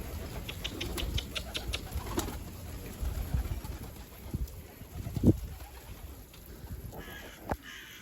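A young, nearly flightless pigeon coos softly at a loft, with scattered faint calls and rustling at moderate distance and an occasional louder nearby thump.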